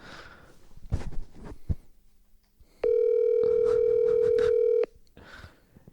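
A steady telephone dial tone drones for about two seconds, preceded by a few handling clicks and quiet rustling.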